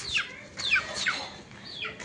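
A small young chicken clucks and chirps in short bursts, about four high-pitched calls spaced across a couple of seconds, fairly close over a quiet background.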